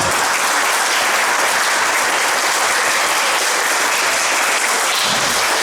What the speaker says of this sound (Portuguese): queria uma salva de palmas para os alunos, primeiro, para as mães, para os pais.